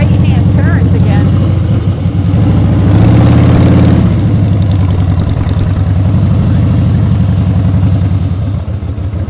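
A motorcycle engine running loud and close during riding practice drills, with revs swelling and falling in a continuous throaty drone, a voice talking over it.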